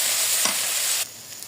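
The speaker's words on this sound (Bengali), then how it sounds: "এবার কিমাটা দিলাম, ভালো মতো উল্টে পাল্টে নেড়ে চেড়ে নিব" Beef mince stirred in a hot pan with salt and turmeric, a dense sizzling hiss with a soft spatula scrape, cutting down to a quieter simmer near the end.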